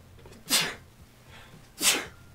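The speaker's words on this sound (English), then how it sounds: "Gonna sneeze." Two sharp, loud human sneezes come about a second and a half apart, each a quick breathy burst over a quiet room background.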